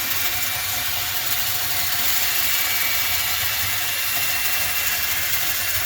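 Steady scraping and rasping with a mechanical, ratcheting edge as a brush is pulled back out through a clothes dryer vent duct, continuous and fairly close with no voices.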